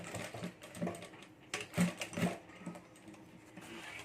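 A sewing machine stitches along the border of a handmade boho handbag, giving faint, uneven bursts of mechanical whirring with short pauses between runs, quiet and close.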